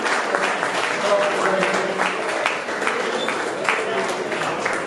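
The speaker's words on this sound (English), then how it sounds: "let's give a big round of applause for Farron's Restaurant, our caterer, Caroly" Applause for a restaurant caterer at a downtown opening night in Illinois, a steady wash of clapping from a crowd that keeps going throughout with a few voices mixed in.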